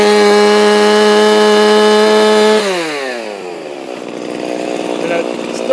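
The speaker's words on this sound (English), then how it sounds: "you can hear it kind of floor cycling at the top end" Stihl MS390 chainsaw fitted with a HiPa carburetor held wide open at a steady high-pitched scream near 12,500 RPM, then dropping sharply in pitch as it falls off to a rough, lower running.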